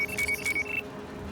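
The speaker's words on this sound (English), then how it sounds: "That alarm will call more of them in unless you disable it." Electronic alarm ringing in the video game Battlefield: Hardline, a high repeating beeping tone pulsing in short bursts for under a second, then cutting out over a low ambient bed.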